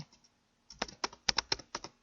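Keystrokes on a computer keyboard while a name is typed in, a brief light tap, a pause, then a quick close burst of about a dozen crisp clicks in uneven rhythm.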